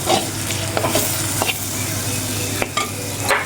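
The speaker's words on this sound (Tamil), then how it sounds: "நல்லா எண்ணெயிலே அந்த பொடியோட பச்சை வாசனை போகிற வரைக்கும் வதக்கிக்கலாம்" Spice powder sautéing in hot oil while being stirred, a loud continuous sizzle broken by scraping utensil strokes, close and without talk.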